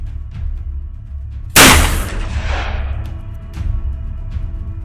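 A single loud gunshot rings out sharply, followed by a decaying echo over a low rumbling background.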